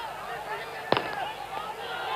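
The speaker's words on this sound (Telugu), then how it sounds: "టపాకాయలు ఆపాలి దయచేసి." A single sharp firecracker burst at an election rally, cutting briefly through steady crowd murmur and public-address talk.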